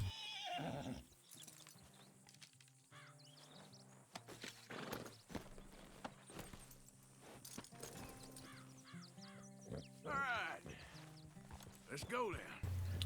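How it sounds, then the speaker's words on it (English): A horse in the Red Dead Redemption 2 video game whinnies and snorts while its hooves clip-clop intermittently, with game dialogue and narration talking over the sounds. "wait for Arthur to help Jack on his horse"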